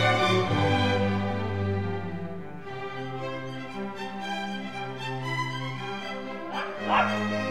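A dog whimpers and yips in drawn-out, whining tones, with short bark-like bursts rising near the end.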